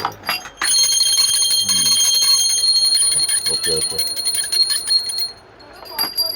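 A pure brass puja bell in a Dadar shop selling copper and brass puja items rings loudly and continuously for about four seconds, its bright, sustained tone fading out, while a person briefly speaks.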